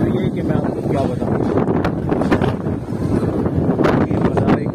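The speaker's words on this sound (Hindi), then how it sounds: "इतनी तेज हवा चल रही है" Strong wind blows at Mazar-e-Quaid, roaring steadily into the microphone as loud, continuous buffeting for the whole stretch, with a voice talking over it.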